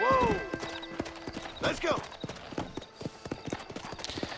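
Horse hooves clip-clop steadily at a brisk rhythm in Red Dead Redemption, with a short horse whinny near the start and someone talking over the hoofbeats.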